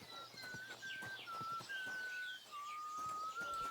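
A horse in the video game Kingdom Come Deliverance II approaches with soft repeated clip-clop hoofbeats, while birds chirp and a sustained whistle-like tone carries over a quiet outdoor ambience.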